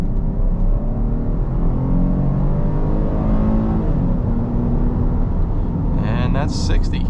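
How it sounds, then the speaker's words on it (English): A 2024 Kia Carnival's 3.5-liter V6 pulls hard under full throttle from about 25 mph, a steady loud engine drone with rising harmonics and road rumble from inside the cabin, plus a brief high chime near the end. "we'll get the car up to 25 miles an hour, and we'll mash the throttle"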